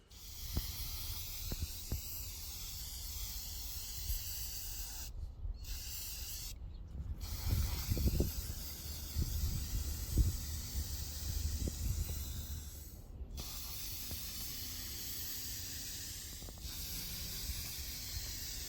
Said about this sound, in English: we just finished up spraying the mink oil outside